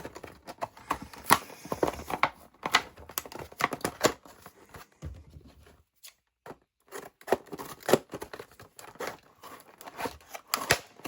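Tough plastic clamshell packaging of a BAUER 4V cordless 1/4 in. screwdriver being pried and torn open, with repeated sharp crinkling, snapping and cutting noises in irregular bursts, close and fairly loud, with a brief pause midway.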